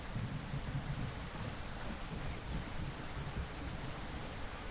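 A thunderstorm in the survival game Project Castaway, with steady heavy rain hissing continuously and a deep low rumble of thunder rolling underneath, loud and unbroken without speech.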